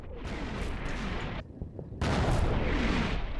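Artillery shells crash down in Combat Mission's Carentan battle, a dense, loud barrage of rumbling impacts and booms with a brief lull midway before the bombardment resumes even heavier.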